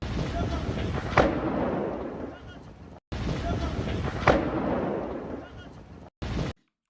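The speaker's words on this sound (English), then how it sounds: "we had multiple explosions going off right inside of Moscow City today" Explosions in Moscow City, heard as a short looping clip: each pass carries a sharp blast followed by a rumbling, noisy roar, repeated twice before a brief cut-off fragment.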